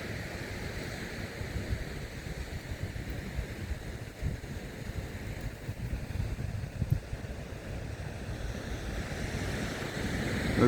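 Ocean surf rolls in continuously at Malaga Cove, a broad, steady wash of breaking waves with wind buffeting the microphone, heard from a distance above the beach.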